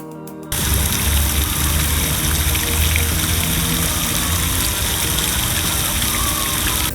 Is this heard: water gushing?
yes